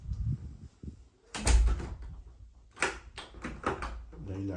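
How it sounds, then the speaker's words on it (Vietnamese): A double front door of a house swings open, with a short thud and latch sounds partway through while someone talks in Vietnamese before and after the door sound. "Cửa này là cửa đôi cả nhà, mình mở ra một cánh cũng được"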